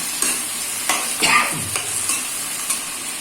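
Chicken pieces fry in a pan under a constant sizzle while a spatula stirs and scrapes through them in a few distinct strokes, close and fairly loud, with no talking.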